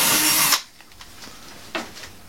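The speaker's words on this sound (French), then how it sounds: "avec la perceuse, toujours pareil, je fais mon trou, toujours diamètre 8" An electric drill bores an 8 mm hole in plasterboard, whirring loudly for half a second before stopping abruptly, followed by a few faint scrapes and taps.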